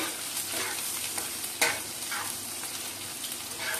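Onion fries in a pan with fenugreek seeds for a posto dish, giving a steady sizzle broken by stirring scrapes and one sharp clatter midway.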